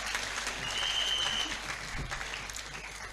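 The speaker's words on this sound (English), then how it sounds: "Can we applaud her?" Audience applause at a women engineers' conference opening ceremony, a dense sustained clapping from a large crowd lasting the whole stretch, fairly loud and even, with no talk over it.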